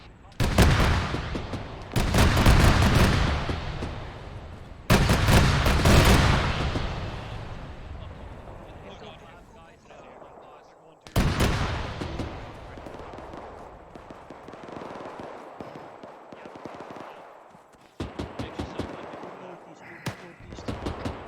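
Heavy gunfire in the ArmA 3 military video game, with loud bursts of shots and booming blasts, sharp rapid volleys near the end, and radio chatter between bursts.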